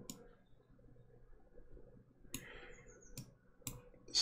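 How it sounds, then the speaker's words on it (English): Computer mouse clicking, a few sharp, faint, close clicks spaced irregularly over a quiet background. "I'm just going to click on it here."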